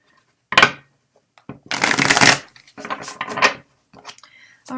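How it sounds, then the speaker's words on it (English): A new deck of tarot cards is shuffled by hand in several bursts of crisp riffling and slapping, loud and close, separated by short pauses. "So what I'm doing is I'm shuffling till one card falls out."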